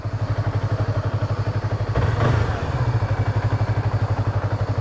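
A faulty motorcycle engine runs with a rough, lumpy pulsing beat, and a brief heavier surge near the middle; nearby and moderately loud, with no speech over it.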